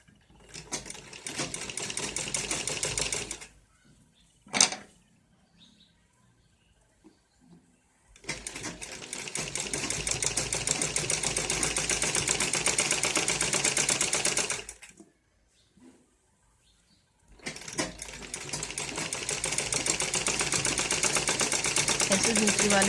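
A sewing machine stitches a sleeve onto a net cloth ladies' suit, running in three long steady bursts separated by short pauses with small handling clicks, close and fairly loud with no talking.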